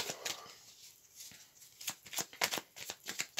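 Tarot cards are shuffled by hand for a nine-card reading, giving quick, close, crisp riffling and flicking bursts in an uneven rhythm, with no talking over them.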